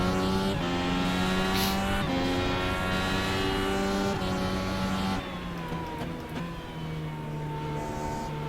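An IndyCar in the iRacing sim spins out on the Indy road course. The engine note drops and wavers, and loud, sustained tyre squeal runs throughout, then the car settles to a lower steady drone.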